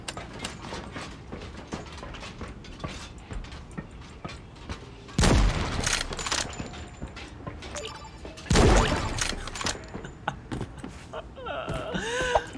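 Sniper rifle shots in the shooter game Creative Destruction, two loud sharp cracks several seconds apart over clicking and mechanical game noise, without talking.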